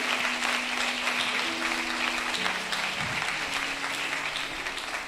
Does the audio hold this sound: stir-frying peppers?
no